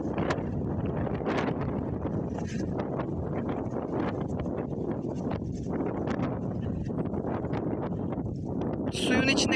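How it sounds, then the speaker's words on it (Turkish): Strong gusting wind by the water buffets the microphone in a continuous roar, with faint rustling and possible water movement underneath. "Rüzgar hem telefonu hem gözlüğümü zorluyor."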